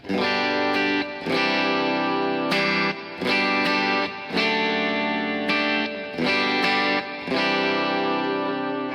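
Gretsch Electromatic Jet G5230T electric guitar on its bridge pickup through a worship-style effects patch with a little reverb, playing sustained ringing chords that are re-struck every second or so, full and loud, with no talk.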